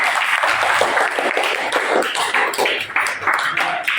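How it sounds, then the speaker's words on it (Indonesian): Students in a classroom clap after their presentations, a lively uneven round of hand claps with sharp individual slaps throughout, fairly close and loud. "Kita tepuk tangan dulu, tepuk tangan dulu."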